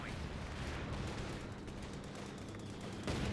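Mortar and artillery barrage in Company of Heroes 2, a continuous dense rumble of distant booms and gunfire with no clear gaps, steady and loud throughout.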